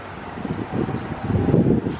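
Low, rumbling storm wind gusts swell and fade amid fallen trees, buffeting the microphone and growing stronger toward the end, with no voices.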